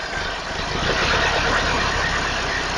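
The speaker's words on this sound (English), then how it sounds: "We've got a misfire, I know that much. You can hear it when I rev it up." A Lansing Bagnall Model A engine with a misfire runs loud and close, a dense continuous roar with an uneven, stumbling pulse running through it.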